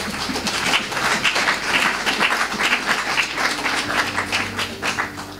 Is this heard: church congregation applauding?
yes